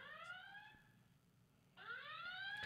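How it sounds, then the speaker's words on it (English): A door alarm sounds twice in bright chirping electronic tones, one burst fading out, then a short quiet, then a second louder burst, heard alone without talk. "Wait, hit your door alarm."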